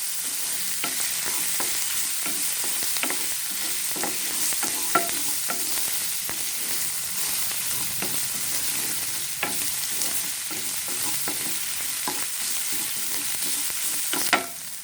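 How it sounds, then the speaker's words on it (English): Onions fry in a hot pan for oyster sauce squid, giving a steady close sizzle with frequent scraping and clicking stirs throughout, no talking. "Cook the onions until it has become soft and translucent."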